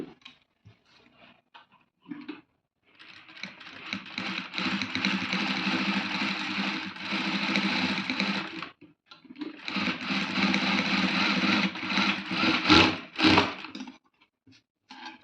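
A domestic sewing machine runs in two long bursts of rapid whirring stitches while edge-stitching invisible thread piping on fabric, with brief pauses, small clicks and handling noises between runs, close and fairly loud.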